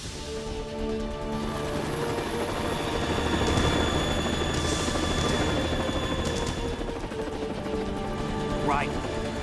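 A Harrier jet in the Metal Gear Solid 2 video game roars and hovers with a sustained, droning engine whine, loud and close, while game sounds and voices mix in underneath.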